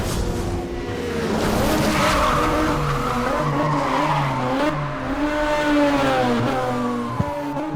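Racing cars in Need for Speed Hot Pursuit Remastered skid and squeal on their tires over steady engine roar, loud and sustained, with rising and falling pitch as the cars slide through turns.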